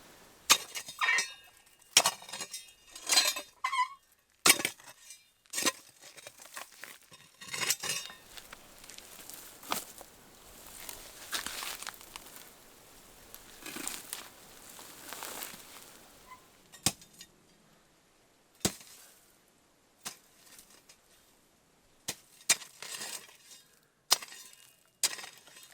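Digging in soil near an old stone well on a five-acre homestead turns up glass and metal, giving irregular scrapes, crunches and sharp clinks spread over about half a minute at moderate, close range.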